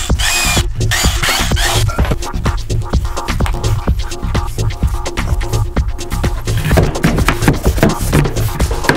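A power drill whirs and bites in rapid bursts, loud and close, with a rattling, throbbing grind that continues throughout.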